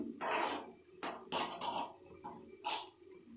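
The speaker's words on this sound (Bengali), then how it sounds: "ততক্ষণে আমি এদিকটা একটু চামচ দিয়ে নেড়ে নিলাম" A spoon stirs Maggi noodles and vegetables in a pan, making a quick run of close metallic scrapes, knocks and clinks against the cookware, with no voices.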